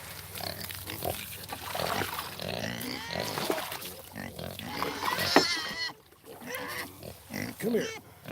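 Pigs on a farm grunting and snorting close by, with sows among them, in a busy cluster of rough grunts and squeals mixed with someone talking.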